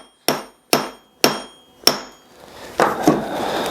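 Sharp hammer blows drive a steel wedge into a wooden hatchet handle, four evenly spaced ringing strikes followed by a couple of duller hits. The strikes are close and loud with no talking.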